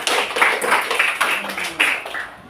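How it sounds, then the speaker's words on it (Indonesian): A classroom audience claps hands together in a short, uneven burst of individual claps, fairly close and loud, with faint voices mixed in. "Tepuk tangan dulu kalau begitu."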